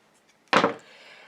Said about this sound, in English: I can grab my scissors and cut very close to the end here.